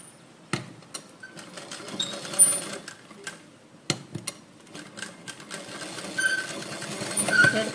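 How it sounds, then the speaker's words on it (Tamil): A tailoring sewing machine stitches blouse fabric in short, quiet, uneven bursts of rapid clatter, separated by brief pauses and light handling sounds. "நான் தையல்ல துணியில மட்டும் படுற மாதிரி தையல் எடுக்கிறேன்"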